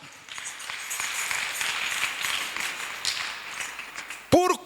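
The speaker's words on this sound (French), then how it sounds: "On acclame, on acclame." An audience in a French Sunday children's church session claps steadily together for several seconds, a dense patter of hands, followed by a brief voice at the end.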